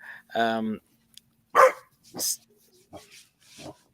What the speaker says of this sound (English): There's a small dog making a large noise very close here.